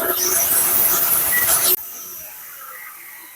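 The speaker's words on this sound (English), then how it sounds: "we have to remove the old cable, which we can easily cut away using a grinding disc" Grinding disc cutting through old steel wire cable, giving a loud, harsh, steady high-pitched grinding hiss that stops abruptly after under two seconds, followed by quiet room tone.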